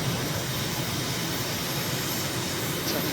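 Jet aircraft engine at full throttle in Microsoft Flight Simulator, a MiG on a recon flight at Colombo, Sri Lanka, with a high exhaust gas temperature; a steady, loud broadband roar holds evenly throughout with no talk.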